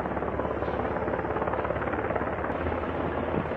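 A helicopter's rotor thuds and engine whine hold at a steady, loud level throughout, close by, with no voices.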